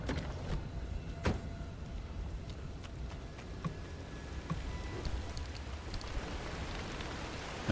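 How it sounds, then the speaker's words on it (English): Rain falls during a storm in the driving game Pacific Drive, a steady soft patter with occasional louder drops and low rumbling underneath, fairly quiet and without talk. "And here comes the rain."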